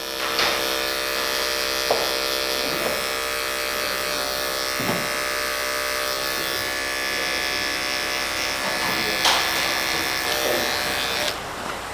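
Barber's electric hair clippers fitted with an 08 detachable blade hum in a continuous, close, loud buzz while cutting a high taper, with occasional scrapes and small bumps against the hair.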